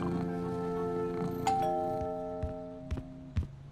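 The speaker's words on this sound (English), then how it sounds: "Until the doorbell rang." A doorbell chimes with a sustained ding-dong, its tones ringing out and fading, followed by a few soft knocks or clicks, fairly quiet.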